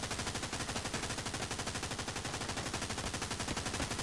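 Rapid, continuous automatic gunfire in the World War II shooter Hell Let Loose, a dense, relentless rattle of shots in a fast rhythm filling the whole stretch.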